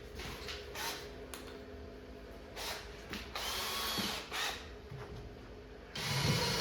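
Power drill driving a couple of screws into the wooden cabinet of an arcade cocktail table, heard up close as several whirring bursts with short pauses between them and no talk.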